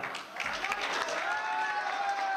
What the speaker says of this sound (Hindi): तो जोरदार तालियों के भी स्वागत कीजिए गौहर कुचे का